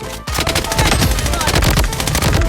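Rapid M4A1 rifle bursts in the shooter game Blood Strike, a loud sustained run of closely spaced shots with a brief gap near the start, firing continuously close up.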